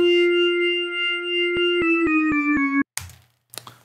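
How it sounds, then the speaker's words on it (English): A bright, buzzy detuned synth tone in Ableton holds one slightly off-key pitch, then breaks into rapid stuttering stabs that slide lower, ending with two short noisy bursts. "it's sometimes nice to have it detuned in a non kind of tonal way"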